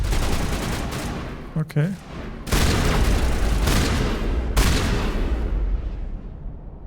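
Geth sniper gunfire in Mass Effect sounds as loud close shots and bursts, with sharp cracks around the middle over dense combat noise, then fades away, and a voice speaks briefly.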